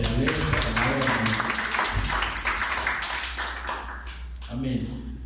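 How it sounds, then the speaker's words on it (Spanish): A church congregation applauds together in a broad, steady wash of clapping, with voices speaking and calling out over it throughout. "Dale un aplauso al Señor entonces"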